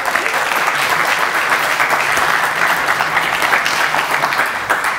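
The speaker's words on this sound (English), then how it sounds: "Give him a warm applause" Warm applause from an audience at a tech talk, steady dense clapping filling the whole stretch at close range with no voices over it.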